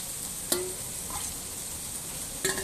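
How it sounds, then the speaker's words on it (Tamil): Ground masala for a Pondicherry-style chicken curry sautés in a pan with a continuous close hiss, and two short metallic clinks come from stirring. "இதெல்லாம் போட்டு கிண்டிக்கலாம் கொஞ்ச நேரம் வதக்கணும்"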